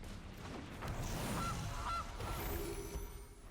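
A goose honks a few times in quick succession within the Magic The Gathering Arena video game, the calls set over a busy, steady background of game sound.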